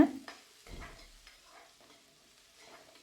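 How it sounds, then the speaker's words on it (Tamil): Shallots and green chilies sautéing in oil with mustard seeds, cumin and dals for rava upma, giving a faint sizzle with a few quick stirring scrapes in the pan, fading after an opening clatter. "நல்லா வதக்கி விட்டுக்கலாம்"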